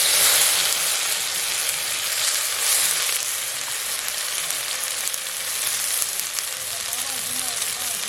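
Cumin, dried chilli and onion frying in hot oil, a loud continuous sizzle throughout at close range with faint speech underneath.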